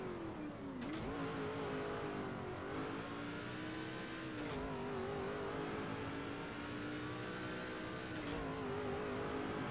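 Race car engine in NASCAR 06, a steady loud droning roar with harmonic pitch that dips and rises as the car shifts and revs, continuous throughout.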